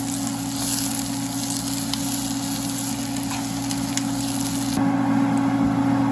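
Onions frying for a tempering, cooked until brown for a spiced cow's feet dish, give a steady, close hiss and sizzle throughout, with a brief shift in tone near the end and no voices.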